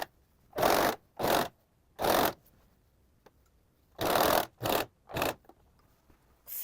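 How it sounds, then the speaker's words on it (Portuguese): Overlock serger running in short delicate bursts along a blouse neckline seam, five or six close, fairly loud passes separated by brief pauses, no talking. "Vou passar uma overlock aqui de forma delicada, porque é uma costura delicada"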